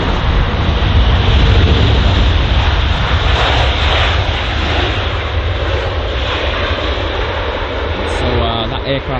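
A jet airliner passes loud and close at London Heathrow, a broad, constant engine roar that fills the whole stretch. A voice can be heard under the noise.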